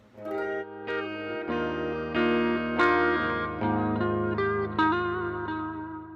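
An Epiphone Les Paul electric guitar with out-of-phase pickups and the neck tone rolled back halfway plays a string of sustained, slightly thin and mellow notes and chords with a hollow, nasal tone, each ringing into the next.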